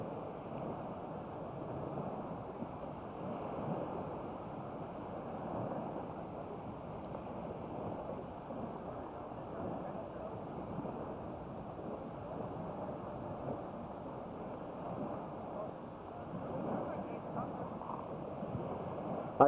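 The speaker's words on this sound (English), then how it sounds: "private beach in their complex down from their house" Sea waves wash steadily at a private beach in Antalya, Turkey, a continuous broad surf roar mixed with wind buffeting on the microphone and faint talking in the background.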